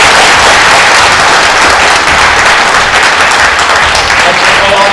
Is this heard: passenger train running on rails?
no